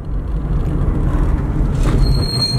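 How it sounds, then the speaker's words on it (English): Brakes on a car that has sat undriven for a week give a sharp, high squeal near the end, rising over a steady low engine and road rumble. "That's a horrible brake sound."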